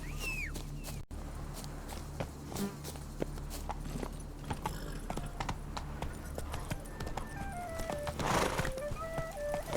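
Roach, the horse from The Witcher 3, gallops in a steady clip-clop of hooves with snorts and a whinny along the way. Insects buzz in the background, and a few short game tones sound near the end.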